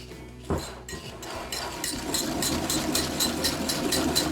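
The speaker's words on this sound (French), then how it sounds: "Je mélange à l'aide du fouet" A whisk beating softened butter and caster sugar in a bowl for a lemon tart, giving rapid rhythmic clinking strokes that grow steadier and louder over a low machine hum.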